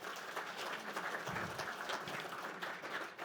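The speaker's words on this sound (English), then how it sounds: "let's give a big round of applause to Dr." Applause from an audience at an agricultural seminar welcoming a speaker, a fairly quiet, even patter of clapping that continues steadily for a few seconds.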